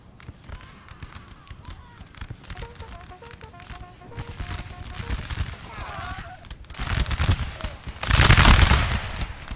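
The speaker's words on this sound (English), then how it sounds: "Great volley fire there." Musket volley fire from massed infantry in a Napoleon: Total War multiplayer battle between France and Russia, building from scattered crackling shots into a loud dense fusillade near the end, with game voices and a talking commentator over it.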